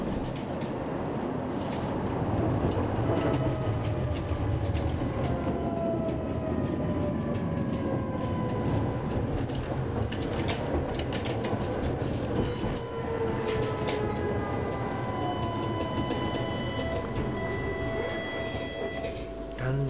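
A Budapest tram on line 61 rumbles steadily along its rails with squealing wheel tones and rhythmic clatter, continuous and fairly loud throughout, with faint background voices.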